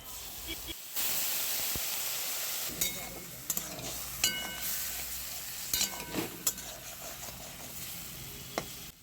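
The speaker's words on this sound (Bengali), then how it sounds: "আবারও মশলাটাকে হালকা একটু নাড়াচাড়া করে নিলাম" Spice paste with coriander and cumin powder sizzles in a pan, a steady hiss punctuated by scraping clicks from stirring, fairly faint and close, with a brief quiet moment near the start.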